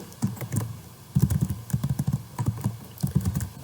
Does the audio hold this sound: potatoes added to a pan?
no